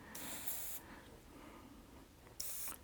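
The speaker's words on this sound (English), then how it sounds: "we're going to spray our white" An airbrush sprays thick white hobby paint in two short hissing bursts, a longer one at the start and a brief one near the end, separated by a quieter pause with faint background noise.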